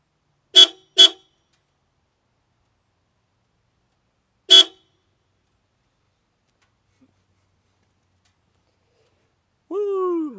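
Aftermarket Hella horns fitted to a 2020 Subaru WRX sound in an open park parking lot: two quick loud blasts, a third after a pause, then a longer falling, bending honk at the end, with quiet gaps between.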